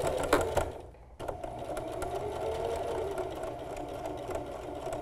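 A sewing machine runs a straight-stitch seam, starting with a few clicks and a short pause, then settling into a continuous steady whirring hum close by.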